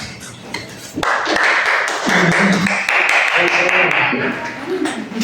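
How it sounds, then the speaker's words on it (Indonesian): Classroom of students clapping their hands for group 2 during a microteaching fiqh lesson, a loud burst of quick, dense hand claps that kicks in suddenly and carries on to the end, with voices faintly underneath. "tepuk tangan untuk kelompok 2"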